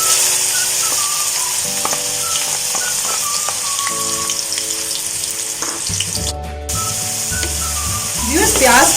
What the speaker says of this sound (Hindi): अब इस टाइम पे इसमें हम अनियंस ऐड कर देते हैं।